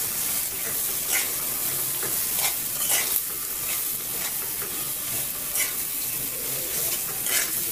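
Onion, garlic, green chili, spices and dried fish being stir-fried for a jackfruit seed dish, a continuous close sizzle broken by repeated scraping stirs every second or so, with no talk.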